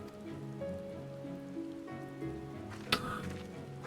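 Rain falls steadily in Final Fantasy XIV, a soft continuous patter under layered game music with sustained tones, and a single sharper hit near the end.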